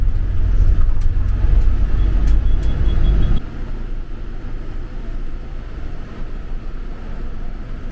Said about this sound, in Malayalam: ഇത് യാത്രയുടെ പുതിയ വണ്ടിയാണ് കേട്ടോ.